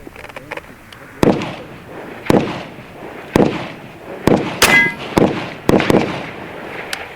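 Shots from an AEA Zeus Gen 2 .58 caliber air rifle at a 100-yard steel target range, a string of about ten sharp cracks at irregular intervals with brief tails, with a high metallic ring after one shot.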